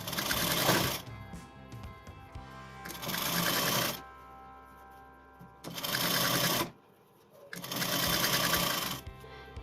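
A sewing machine runs in three long straight-stitch bursts on folded frock fabric with a net layer, each a steady loud whir separated by short pauses, with no talk.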